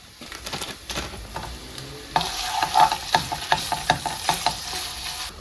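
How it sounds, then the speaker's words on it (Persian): Ground meat hits golden fried onions in a hot pan for homemade lasagna, sizzling loudly as a spoon scrapes and stirs in a quick repeated rhythm close by. "حالا میریم که گوشت رو اضافه کنیم"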